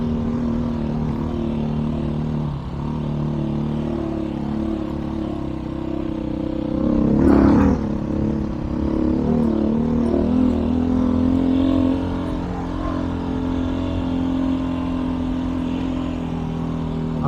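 A dual sport motorcycle engine drones steadily while riding uphill, then surges in a sharp rev around the power wheelie before settling back into a sustained throttle hum, close and fairly loud.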